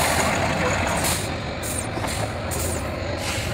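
A Tatra 815 6x6 truck runs at a truck trial event, its heavy engine producing a loud, continuous low rumble. Air-brake hiss is mixed in, with faint voices underneath.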